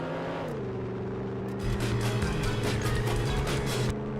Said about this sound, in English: Now launch the car off the jetty.